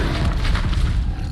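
A spell cast in a Hogwarts video game lands as a deep, rumbling boom with a sustained low roar lasting over a second, loud and close, with no voices over it.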